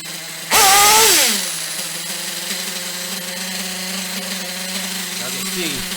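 A small nitro engine that is still warming up revs loudly for a moment, then settles into a steady, buzzing high idle that holds at close range for several seconds.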